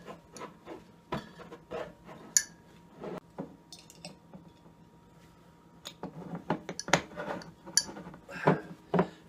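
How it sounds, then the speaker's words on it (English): Glass bottles of homemade hard apple cider clink and knock as they are set one by one into a six-pack container, in scattered, sharp, close contacts with quieter handling noise between them. "And then just put them into your 6-pack container, or whatever container you have."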